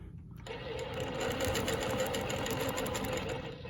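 A longarm quilting machine stitches Baptist fan patterns along a ruler, giving a steady, fast mechanical whirr at close range that runs unbroken after a short quiet start.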